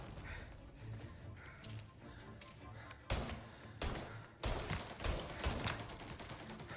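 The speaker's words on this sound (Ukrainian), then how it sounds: "А, ну та і там звуки пострілів." Bursts of gunfire crack out in quick volleys in the video game Mafia: Definitive Edition, loud and sharp, mixed with rapid clicks and thuds.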